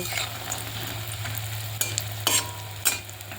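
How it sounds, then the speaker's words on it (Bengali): Bori lentil dumplings fry in hot oil with a steady, close sizzle, broken by a few sharp clinks and scrapes of stirring; no one speaks. "কিছু বড়ি ভেজে নেব এটা পুঁই শাকে দেবো বলে বড়িটা আগে আমি ভেজে নেব"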